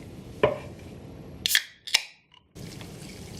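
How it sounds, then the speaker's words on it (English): A sharp metallic crack and hiss as a beer can is opened, followed by a faint splashing pour over low background noise. "Go ahead and crack this beer open."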